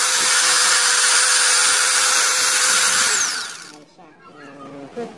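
An electric grinder running on 220 volts, heard as a loud steady whine that spins down and stops after about three seconds, leaving faint rattling and handling noise.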